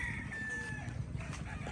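Gamefarm roosters crow at a fowl range, a faint, somewhat distant cock-a-doodle-doo rising over soft outdoor background noise.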